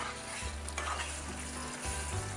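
Fried paneer is stirred into a sizzling curry in a pan, with a loud continuous fry and a low rumble of the burner beneath, and brief scraping as the pieces are mixed.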